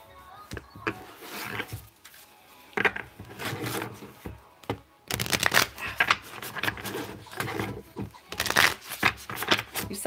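A deck of tarot-style cards being shuffled by hand, with repeated riffling and snapping bursts in uneven clusters, loud and close, with a brief pause before a denser run of shuffles.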